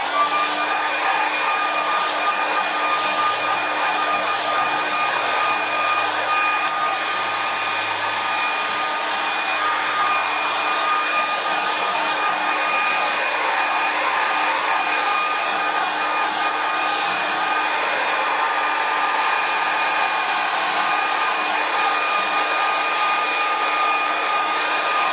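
A hair dryer blows steadily on a watercolour painting, a loud continuous whirring hum with a high whine that holds unchanged throughout.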